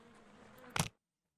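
Bees buzz in the Sherlock Holmes: Crimes and Punishments video game, a faint, thin drone under a soft background that ends in one sharp burst before cutting to silence.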